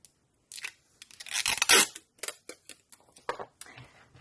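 Several short ripping bursts of tape being pulled off a roll, close and sharp, with brief pauses between pulls.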